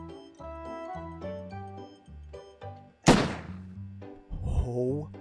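A gun falling off a table in Hand Simulator lands with one sharp, loud thunk in the middle, followed by a brief clatter, with someone talking before and after it.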